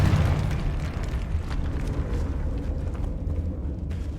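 A Confringo fire spell blasts in Hogwarts Legacy, a loud sustained rumbling explosion that starts strongest and rolls on as a dense low roar through the whole stretch, with no voices.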